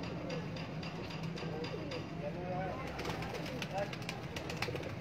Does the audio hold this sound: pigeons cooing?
yes